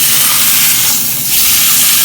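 Seasoned meat, salted and dusted with cumin and pepper for birria, hissing and sizzling steadily on a hot fire just after being flipped, a loud close continuous sizzle that dips briefly midway.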